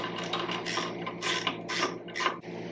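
A ratchet works loose the 10mm bolts holding the ignition coil on a Honda Shadow 750 motorcycle, giving a close, quiet series of rapid clicking bursts in a steady back-and-forth rhythm.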